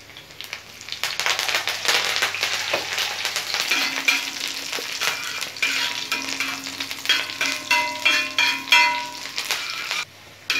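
Chopped garlic and curry leaves fry in hot oil for a mushroom pepper fry, giving a close, steady sizzle with crackles and spoon-stirring scrapes, backed by quiet music.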